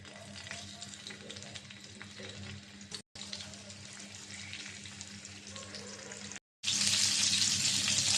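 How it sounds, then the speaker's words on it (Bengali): Tilapia coated in turmeric and chili frying in hot oil, a steady dense sizzle that runs almost unbroken, with two brief dropouts and a louder, brighter burst of spitting toward the end. "মাছটা কড়া করে ভেজে নেবো"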